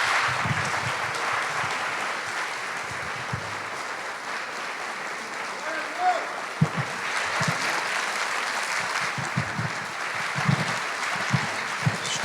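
A church congregation applauding in praise, a steady, moderately loud wash of clapping that carries on throughout, with scattered low thumps and brief vocal bursts mixed in.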